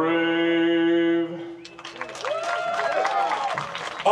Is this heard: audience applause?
yes